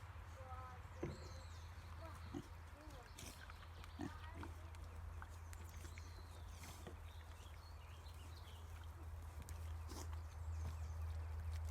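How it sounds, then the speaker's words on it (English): Farm pigs grunt and shuffle while they are fed and watered, faint and somewhat distant over a constant low hum, with occasional footsteps and scattered knocks. "feeding and watering the pigs."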